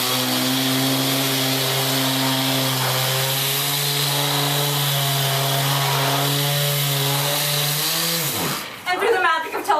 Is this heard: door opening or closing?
no